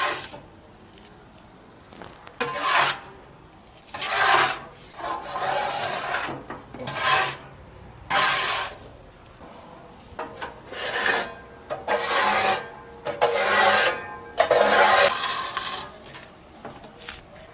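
Ash being scraped out of a barbecue smoker firebox, a series of about a dozen rasping scrapes in irregular bursts, loud and close, separated by short quiet pauses.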